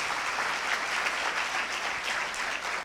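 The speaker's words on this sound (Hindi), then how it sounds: "जोरदार तालियों में।" Church congregation at a Corpus Christi feast and First Holy Communion Mass clapping vigorously, a continuous, even burst of applause that fills the brief stretch from start to finish.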